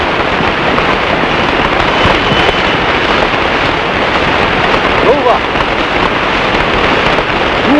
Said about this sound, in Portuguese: Chuva, para passar o calor.